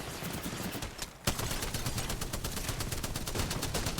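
Rapid video game gunfire, dense bursts of shots firing continuously at close range with a brief lull near the start before the shooting resumes loudly.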